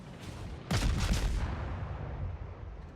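Warship gunfire in the naval video game World of Warships, with Kongo battleships in play: a single deep, booming salvo bursts out and then rolls away into a fading rumble.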